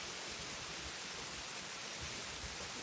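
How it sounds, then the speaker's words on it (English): Steady broadband rush of a waterfall and a stream flowing just beneath the listener in a wooded spot, a continuous even wash of water noise with no voices. "There's a waterfall back there. The stream's running straight under us."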